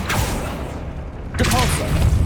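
The Accio summoning spell cast in Hogwarts Legacy, a short burst of magical whoosh and thump with a brief shimmering tail, loud and close over game ambience, about two seconds long.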